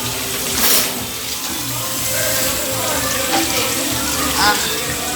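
A faucet runs with a steady gush of water splashing into a basin, loud and close, with people talking briefly in the background.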